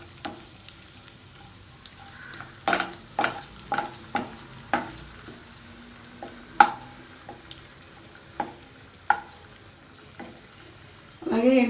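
Raisins and nuts frying in a pan for a sweet pongal, with a run of sharp scraping and clinking stirs and faint sizzling under a quiet background.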